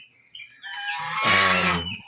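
Newly hatched turkey chicks make short, high peeping calls close by, one rising call followed by a louder run of chirps.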